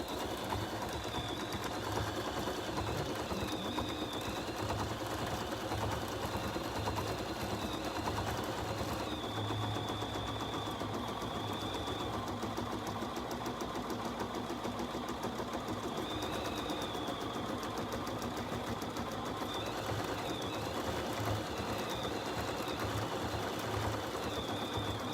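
A Bernina 770QE embroidery sewing machine stitching a triple stitch, its needle running in a steady, fast mechanical whir that continues unbroken and close for the whole stretch.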